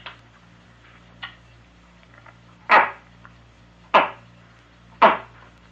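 Voice imitation of a buck's call in Nova Scotia, three sharp, knocking grunts spaced about a second apart, close and loud, after a couple of fainter clicks.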